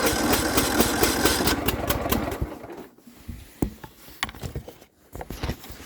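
A Kubota T1570 tractor engine runs after a cold start with a steady, close chugging idle. It drops away about halfway through, leaving scattered knocks and clunks.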